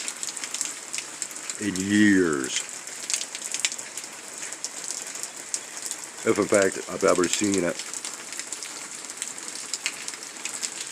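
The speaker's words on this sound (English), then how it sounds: "And the rain is to continue." Steady rain falls on a flooded Michigan property during an environmental dispute, a constant hiss of drops running throughout while a person speaks briefly at two points over it.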